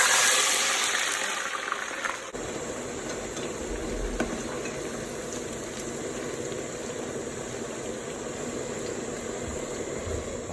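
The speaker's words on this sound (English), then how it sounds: "now that the oil is hot, I will just go ahead and start frying." Fries fry in hot oil, giving a steady, dense sizzle and crackle that starts with a brief louder surge as they go in, then holds close and even throughout with no talking.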